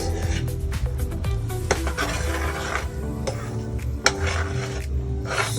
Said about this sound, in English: make sure you turn it to prevent it from burning